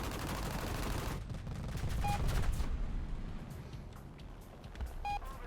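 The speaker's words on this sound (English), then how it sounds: "You can, yeah, that's an AA gun." An anti-aircraft gun fires in the War Thunder video game. A dense burst of rapid shots opens, then thins into scattered distant pops, with a couple of short electronic beeps of an in-game alert.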